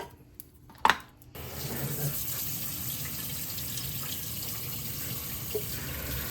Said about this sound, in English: We are going to wash them with cold water.